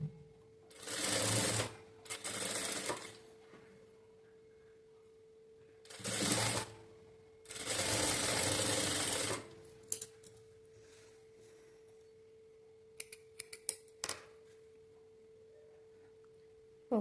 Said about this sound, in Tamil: இப்போ டைமண்ட் நெக் வந்து நான் ஸ்டிச் பண்ணிட்டேன்